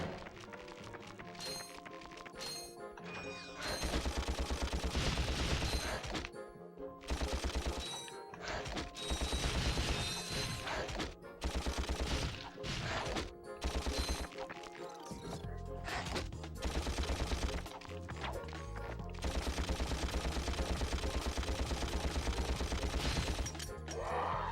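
Gunfire and bursts of shooting in the Ratchet and Clank video game, loud and dense, overlapping with game music and effects and repeated in several heavy stretches.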